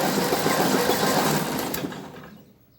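A rough old Ferguson TEA20 tractor engine with poor compression churns over steadily with a rattling, mechanical drone, then winds down and fades out near the end.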